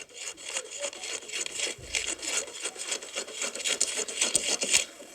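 Scissors cut through a paper sewing pattern piece for a vintage jacket, making close, continuous crisp rasping and rustling strokes that pulse rhythmically, with no talk.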